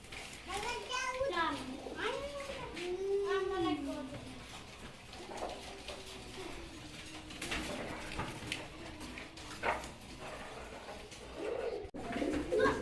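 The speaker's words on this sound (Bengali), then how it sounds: "তো দর্শক এখানে আরও এক পেয়ার কবুতর দেখতে পাচ্ছেন, সোয়াচন্দন।" Swachandan pigeons coo in rising and falling throaty rolls at the start. Then a voice talks over softer cooing and bird noise nearby.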